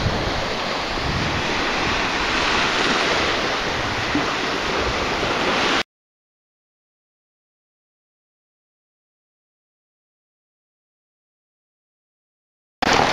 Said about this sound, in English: A few waves on the bay.